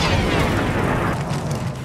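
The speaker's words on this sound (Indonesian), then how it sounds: "sebuah ledakan tiba-tiba terjadi" A bomb blast in a war zone fills the soundscape with a loud, sustained roaring rumble that stays dense and heavy throughout, with no voices.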